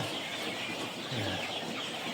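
Chickens cluck softly in a coop, a low steady murmur of hens with a few brief clucks standing out over a constant background hiss.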